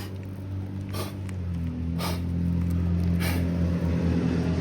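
A car passes on the road beside an outdoor roof shingle test, its low engine drone steady and slowly swelling louder, with a few short airy bursts of blowing on top.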